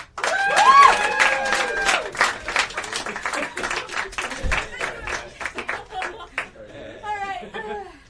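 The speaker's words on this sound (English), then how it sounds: "can we clap to welcome Jess back in?" An audience claps together to welcome a returning guest at a live show, a dense burst of applause at first that thins out as voices and other sounds take over.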